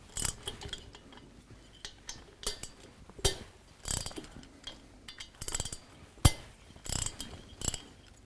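A wrench cracks loose the cylinder head bolts on a motorcycle engine, producing a series of separate metallic ratcheting clicks and clanks in irregular bursts, with one sharp loud crack near the end, heard up close and without speech.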